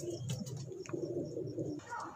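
Golden pigeons cooing close by in soft low repeated coos, with faint chirps and background murmur throughout.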